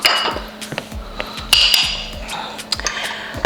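Boiled saltfish is scooped into a bowl, with repeated clinks and knocks of a utensil against the dish, close and fairly loud in a kitchen.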